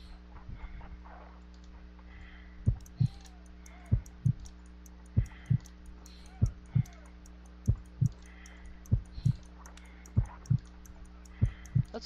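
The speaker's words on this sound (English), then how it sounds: "A weak pulse, around 50 beats per minute." A weak, slow heartbeat of about 50 beats per minute sounds in a Sherlock Holmes video game, paired low thumps repeating in a steady rhythm over a constant low hum, with no talking.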